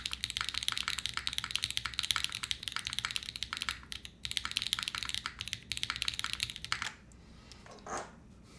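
Mechanical keyboard fitted with Obscura switches being typed on, a fast stream of crisp clacks in bursts with a short pause near the middle, trailing off into quieter scattered taps and a faint rustle at the end.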